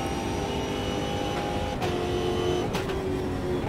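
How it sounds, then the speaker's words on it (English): A massive V8 race car engine from the Automobilista 2 racing game drones steadily at high revs, loud and close, with a slight pitch dip partway through and no talk over it. "in this monster of a machine with a massive V8"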